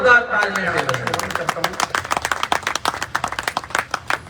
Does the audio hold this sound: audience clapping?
yes